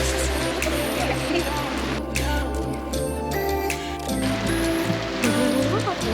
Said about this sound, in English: A bit rainy.